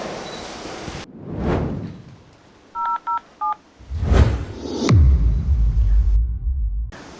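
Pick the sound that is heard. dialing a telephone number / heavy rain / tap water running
dialing a telephone number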